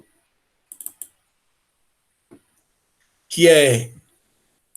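A few light computer mouse clicks come in a quick cluster and then a single faint click, alone in a quiet room before a brief spoken phrase.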